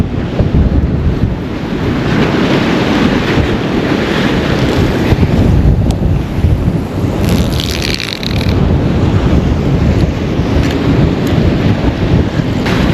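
Strong sea wind batters the microphone on the shore during a fishing session, a constant loud roar with crashing surf blended underneath and no break for the full stretch.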